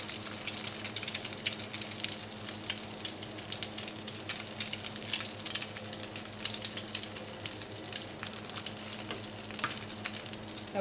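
Brioche slices frying in a pan, a soft continuous sizzle with light crackling pops, steady and fairly quiet with no voices.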